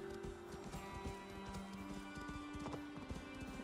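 Steady clip-clop of horse hooves at a trotting rhythm in the video game Assassin's Creed Valhalla, close and continuous, with a tonal hum underneath and no talking.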